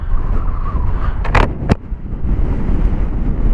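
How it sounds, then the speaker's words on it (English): Strong wind buffets the microphone on a motorcycle ride along roads near Treorchy, a constant low roar broken by a couple of sharp knocks partway through. "Bit windy."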